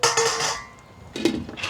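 A utensil clinks and scrapes against a soup pot while lime leaves are gently stirred, in two short bursts of metallic contact close by.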